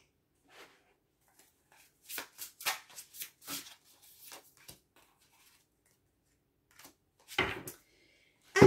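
Tarot cards being shuffled by hand for a reading: bursts of papery riffling and slapping in uneven clusters, with a long quiet pause before a final short flurry.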